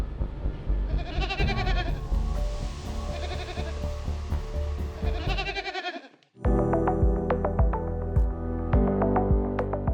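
Goats bleating at a Maasai cattle-herding homestead: several loud, wavering bleats in overlapping bursts for about six seconds, then a brief pause followed by a rapid run of sharp clicks and knocks.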